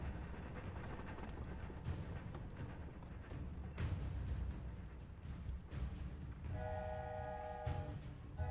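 A steam train in the Hogwarts Legacy video game, its horn or whistle sounding as a steady tone partway through over a continuous rumbling rail background, fairly close.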